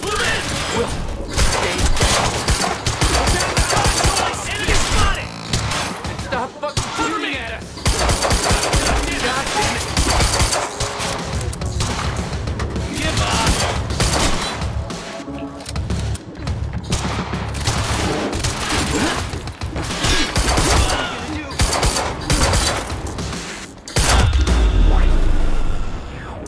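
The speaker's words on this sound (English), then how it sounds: "Target's armed! Opening fire!" A Quantum Break video game shootout: loud, sustained gunfire with dense automatic bursts and single shots crackling almost without pause. Shouted voices are mixed in.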